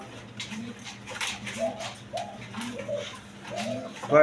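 Pigeons of various breeds, kept for sale, give repeated soft cooing phrases at close range, each low throaty call swelling and fading over a quiet background.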